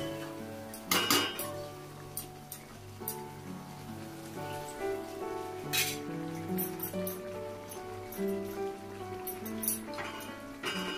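Dried lote fish boiling in a pot while stirred, with repeated metallic clinks and scrapes of a utensil against the pot over a soft, steady bubbling backdrop.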